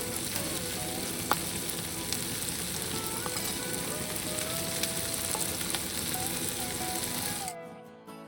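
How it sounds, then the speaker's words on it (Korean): Chili-based seasoning with gochugaru being stir-fried with vegetables over medium heat for spicy stir-fried octopus. A loud, continuous sizzle runs for about seven seconds, with occasional clicks of stirring, then cuts off abruptly. "양념을 넣고 30초 정도 달달 볶아주는데"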